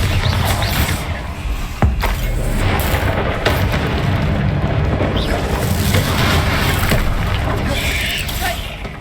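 Explosive Confringo and Bombardo spells bursting in Hogwarts Legacy, heavy booms and rumbling blasts layered over continuous game noise while a player shouts spell names throughout.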